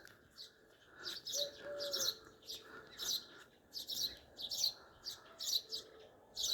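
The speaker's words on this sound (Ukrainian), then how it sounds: "Ташки цвірінькає тут." Small birds chirp repeatedly in short bright bursts on a quiet green village side street, the calls steady and fairly close over a soft background hum, with no talking.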